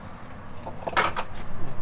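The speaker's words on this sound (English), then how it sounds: "these are the new keys for Ford." Ford car keys jangle in a motorhome cab with a few bright metallic chinks clustered near the middle and end of the short moment, close to the mic over a low background hum.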